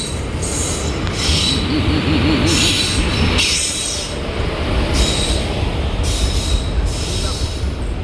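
A passenger train rumbles loudly close by as it arrives at a station, with steady wheel noise and bursts of high metallic squealing as it rolls in.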